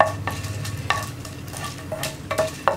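Urad dal and dried red chillies fry in a pan for a coriander tomato chutney, giving a steady close sizzle and repeated sharp metallic scrapes and clinks from stirring, with no talk.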